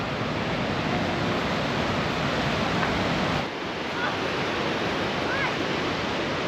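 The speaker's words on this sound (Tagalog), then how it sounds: "Falls na ito sa tabi ng daan." A roadside waterfall on the Icefields Parkway in Canada gives off a steady, dense roar of rushing water that fills the whole clip, with a brief dip partway through.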